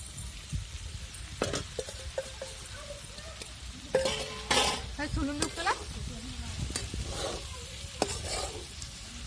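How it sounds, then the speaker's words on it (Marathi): Soaked poha being stir-fried in a pan with onion masala for kande pohe, giving soft sizzling and scraping spoon strokes, with occasional louder clinks of the spoon against the pan. "आणि चांगले असे परतून घ्यायचे आपले पोहे"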